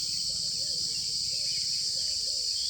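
A reva insect calls from grass in an unbroken, steady high drone, loud and constant, with faint bird chirps underneath.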